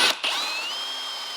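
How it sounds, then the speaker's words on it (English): A step drill bit whines steadily while widening a square hole to 3/4 inch for a Yamaha rack installation, its pitch gliding upward then holding, after a brief sharp start; loud and close, no voices. "I'll use this step drill bit to get 3/4 of an inch"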